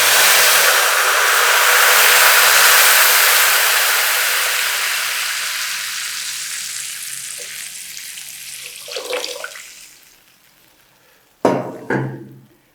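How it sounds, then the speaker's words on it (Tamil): Tamarind water poured into a hot pan for vatha kuzhambu, a loud hissing sizzle at the start that slowly dies down, followed by a couple of short stirring or clattering sounds near the end. "அப்புறம் இந்த புளி தண்ணியும் ஊற்றுறோம்."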